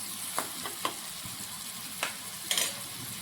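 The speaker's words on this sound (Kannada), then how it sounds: "ಇವಾಗ ಸ್ವಲ್ಪ ಈರುಳ್ಳಿಯನ್ನು ಕಟ್ ಮಾಡಿ ಹಾಕ್ಕೊಂಡು ಒಂದು ಸ್ವಲ್ಪ ಕಲರ್ ಚೇಂಜ್ ಆಗತ್ತನ ಫ್ರೈ ಮಾಡ್ಕೊಳ್ಳೋಣ." Chopped onions frying in a pan give a soft, steady sizzle, with a few spatula scrapes and taps of stirring spaced through it.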